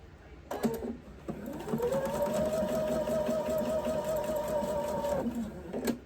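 Sewing machine stitching a pieced quilt block: a few short starts, then a steady close whirring run of several seconds before it stops.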